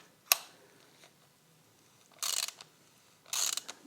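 A ratchet with a 22mm socket tightens the rear brake caliper of a Yamaha XJR 1300, giving two short, close bursts of rapid clicking after a single sharp tap in an otherwise quiet space.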